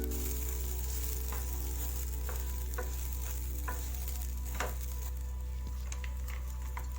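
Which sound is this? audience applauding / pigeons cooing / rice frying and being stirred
rice frying and being stirred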